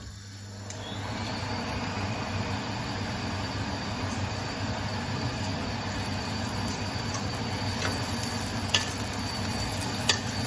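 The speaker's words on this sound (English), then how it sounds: "Sizzling enough for my liking" Steady, crackling sizzle of prawns frying in oil in a hot pan, with a constant whirring fan hum underneath and a couple of sharp clicks near the end.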